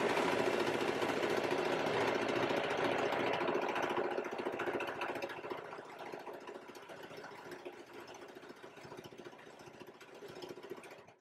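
Sewing machine stitching elastic onto a dress seam, a steady mechanical whir running continuously at moderate level and gradually easing off toward the end, with no talking.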